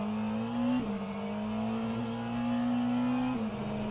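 Racing cars in a virtual endurance sim race roar past with a steady, loud engine drone that drops in pitch twice as each one passes close by, with no talk over it.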